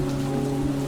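Steady rain falls at a graveside, a constant even hiss with a low hum beneath it, unbroken and fairly loud.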